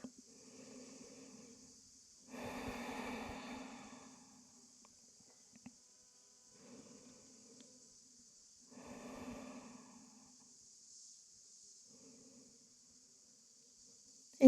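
Slow breathing of someone resting in the yoga child's pose: two soft, drawn-out breaths close to the mic, separated by quiet pauses, with a faint steady background hiss and no talking.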